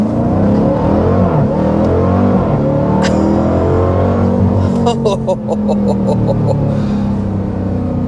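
A 2025 Dodge Durango Hellcat pulls hard in launch mode with traction control off, its loud engine roar filling the cabin steadily throughout. A short sharp noise lands midway, a rapid ticking follows, and a voice speaks briefly over the drone.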